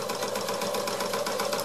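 A Wilesco D141 model steam engine runs steadily in a workshop, giving a fast, even mechanical chatter and hiss at moderate level with no pauses or talk.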